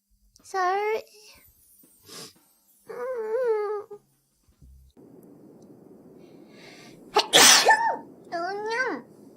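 A young woman sneezes several times, with short high-pitched vocal bursts and a sharp loud sneeze near the end, mixed with brief spoken and moaning sounds in a quiet room.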